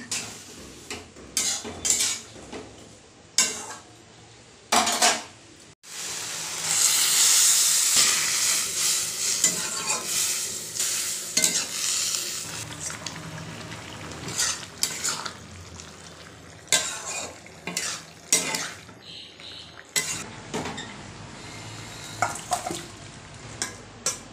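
Pumpkin shoots, leaves and flowers cook in a pan, starting with scattered utensil clanks, then a loud surge of hissing sizzle that settles into steady frying with frequent stirring scrapes and metal knocks, close by.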